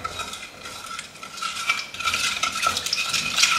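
Sugar and salt mixture stirred in a bowl while preparing roti dough, giving a continuous scraping, clinking rhythm of a spoon against the bowl, close and moderately loud with no talking.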